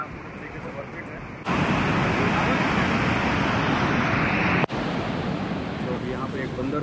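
Rushing water of the Amritdhara waterfall in Koriya, swollen with rainy-season flow, fills the air as a steady broadband roar that grows louder and closer after the first moments and continues without a break.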